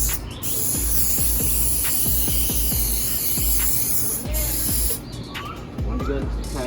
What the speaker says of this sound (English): Spray this part.